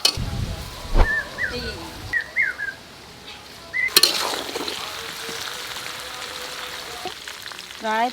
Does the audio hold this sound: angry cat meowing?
no